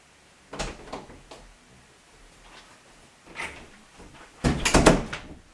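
Doors opening and closing in the pinball game Super Mario Ball, a few separate short clunks spread out, the last burst loudest and fullest, with no talking.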